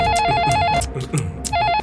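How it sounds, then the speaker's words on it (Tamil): A telephone rings with a warbling electronic trill in two bursts separated by a short gap, loud and close over low background noise. "ஏய் அண்ணனுக்கு ஃபோன் அடிச்சிட்டாடா."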